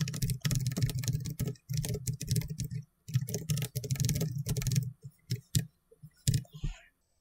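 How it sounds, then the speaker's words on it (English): Rapid clicking keystrokes on a computer keyboard come in bursts of steady typing with short pauses, close and clear, and no one speaks. "let me try to type the expression first"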